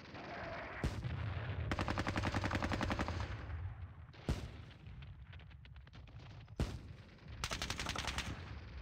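Machine-gun and rifle fire in a World War II war game at Ponyri, with tanks firing on the squad: rapid rattling bursts punctuated by sharp loud shots and explosions, dense and fairly close, without voices.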